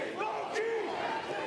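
A wrestling crowd cheers and chants for JT Dunn at a live indie show, a loud, sustained roar of many voices with rising shouted tones filling the whole moment.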